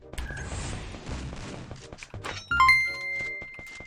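Gunfire in the Free Fire battle game: a flurry of sharp, moderately loud shots in quick bursts, followed by a heavier impact and a bright electronic ding that rings on as a thin tone.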